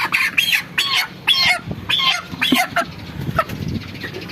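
Chickens cluck and squawk in a series of loud, close bursts while a bird is weighed, with quieter background clucking and rustling between the calls.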